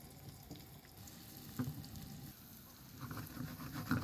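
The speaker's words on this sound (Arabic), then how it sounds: "معانا 3 معالق كبار زيت، عليهم بمعلقة كبيرة من السمنة، وننزل عليهم ببصلة كبيرة." A large chopped onion fries in three big spoons of oil and a big spoon of ghee for an Egyptian home dish, giving a steady close sizzle with light stirring and clinks throughout.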